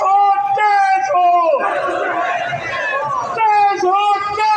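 Crowd at a Jamaat-e-Islami sit-in in Islamabad chanting slogans in loud unison, rhythmic call-and-response shouts with a brief swell of cheering and babble in the middle.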